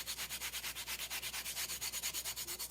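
Firm rhythmic rubbing as a water slide decal is pressed onto a wine glass, a steady series of about twenty close, even strokes with no voices.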